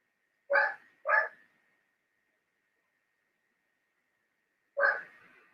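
A dog barks three times nearby, two quick barks in succession followed by a pause and a single final bark, each sharp and loud against an otherwise quiet room.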